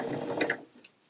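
A sewing machine stitching a tiny appliqué keyring: a short, close burst of rapid mechanical whirring and ticking that stops after about half a second, followed by a few faint clicks.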